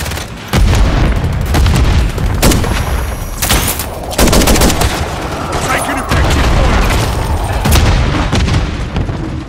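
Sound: Semtex grenade explosion in Call of Duty video game

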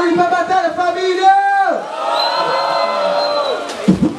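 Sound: crowd cheering at a rap battle

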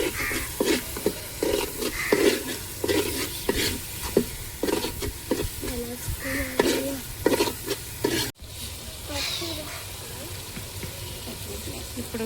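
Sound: stirring turmeric into frying fish curry

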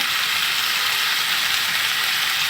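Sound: spice powders and onion paste frying for fish curry

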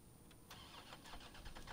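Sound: orange car engine starting in Resident Evil 3 Remake video game

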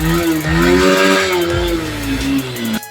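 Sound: Honda CB Hornet motorcycle engine through repaired exhaust

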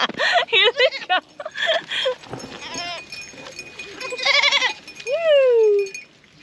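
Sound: goats bleating on a homestead

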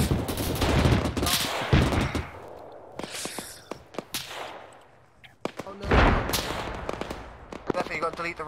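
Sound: gunfire from enemies in the video game ARMA 3

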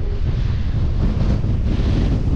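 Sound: strong wind at a Moroccan beach shore break

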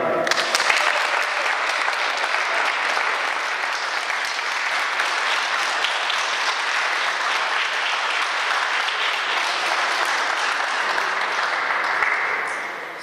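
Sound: applause for Agatka

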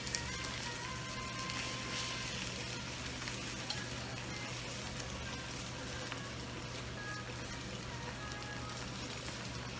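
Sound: sausages frying in a pan on medium heat

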